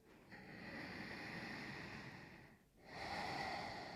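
Deep breathing during a yoga practice, a long steady breath that swells and fades, then a brief pause and a fresh inhale, close and soft with no talking.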